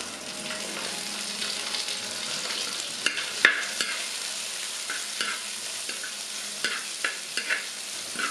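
Green chillies and kudampuli sizzle steadily in a pan for a Kerala-style fish curry, a soft continuous frying hiss broken by occasional stirring clinks and scrapes.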